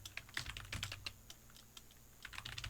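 Quick, light keystrokes on a computer keyboard come in irregular bursts with short pauses, close and fairly quiet, with no talking.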